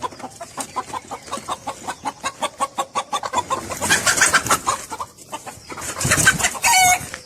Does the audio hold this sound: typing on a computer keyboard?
no